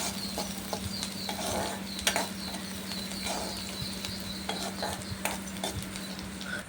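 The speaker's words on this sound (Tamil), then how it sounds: "இப்போ வெங்காயம் சேர்த்துட்டு நல்லா வந்து வதக்கி விடுங்க" Onions, green chili and curry leaves sautéing in a pan for a green gram and egg rice. A steady low sizzle runs under repeated spoon scrapes and clinks against the pan as the mix is stirred, close up with no voices.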